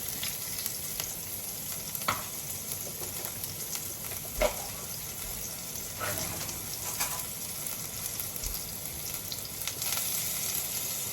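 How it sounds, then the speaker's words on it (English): Onions sizzle and fry in a pan with olive oil, a steady close hiss with occasional crackles and stirring clinks, and no talking. "Onions going in."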